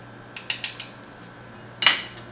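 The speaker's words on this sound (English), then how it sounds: "once you add the sugar, give it a quick stir" A spoon stirs sugar into liquid for fermentation, producing a few quick light clinks against the container, a pause, then one louder, brighter clink near the end.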